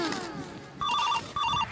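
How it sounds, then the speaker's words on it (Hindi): Phone ringing indoors: two short bursts of a warbling electronic ring tone with a brief gap between them, fairly faint, preceded by a moment of quiet room sound. "अहाँ के फोन आयल है"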